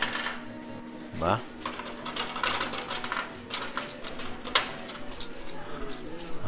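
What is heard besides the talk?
coins dropping into a coin pusher arcade machine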